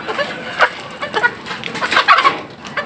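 Chickens cluck inside a large coop in a rapid, uneven series of close, loud clucks and squawks, with no talking.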